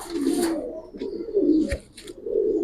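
Several pigeons of fancy breeds such as Army, Lalpatti, Silver and Khaki coo close by in low, repeated throaty phrases, with a few faint chirps and a soft thump in between.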